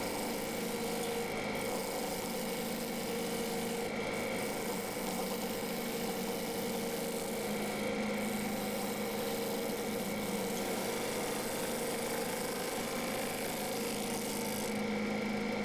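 A wood lathe spins a yew bowl blank at 800 RPM, giving a steady droning hum with a persistent tonal whine, unbroken and even throughout, no talking.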